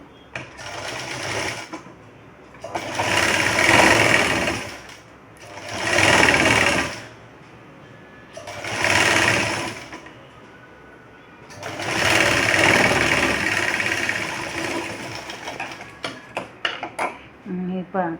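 An electric sewing machine stitching a katori blouse runs in four loud, close bursts of rapid whirring with quiet pauses between. It ends with scattered light clicks and handling noises.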